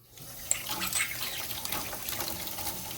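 Running water splashes steadily as trumpet valves are rinsed under a tap, a close, continuous rushing and trickling with small clinks, no voices over it.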